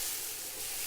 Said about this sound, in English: This is on a low heat because leeks cook very quickly